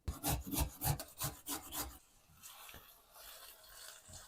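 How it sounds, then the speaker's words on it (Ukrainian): Rhythmic rasping strokes of a carrot scraped over a coarse grater, quick and steady at first, then fading into softer, scattered scraping. "І одну морквину натру на велику терку."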